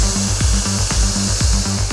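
Sand is blasted from a sandblasting apparatus onto samples of protective car film, giving a constant harsh hiss overlaid with a rapid, regular rattling pulse, loud and close with no speech.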